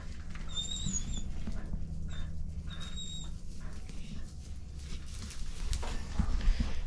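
A dog in a barn with horses in the morning gives several high, thin whines over a low steady rumble, with a few thumps and shuffling noises toward the end.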